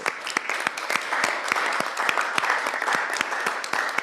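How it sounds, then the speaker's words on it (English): Room applause at a public debate on food systems and biodiversity held at FAO, a steady patter of many hands clapping at moderate distance with sharp individual claps standing out, no talk over it. "So I think it's a big round of applause from this"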